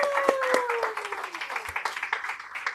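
Audience clapping after a presentation, scattered individual claps that start over a fading tone and thin into a sparse, uneven patter.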